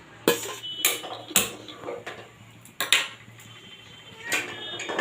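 Fried potatoes are tipped into a pot of mutton curry in a pressure cooker, giving several sharp metallic clanks and scrapes of spoon against pot, irregularly spaced and close by.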